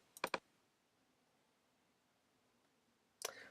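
Computer mouse clicks up close, a quick pair of sharp clicks at the start and another click near the end, with near silence between.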